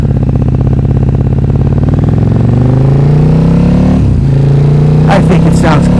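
A 2011 KTM RC8R sport motorcycle fitted with an Akrapovic exhaust, quick shifter and slipper clutch pulls away, its loud close engine rising steadily in pitch through a long acceleration, briefly dropping, then climbing again with sharper revs.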